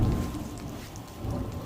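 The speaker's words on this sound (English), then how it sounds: "it's thundering all at the same time" Rumbling thunder rolls through steady rain, a continuous low roar of a storm with no voices.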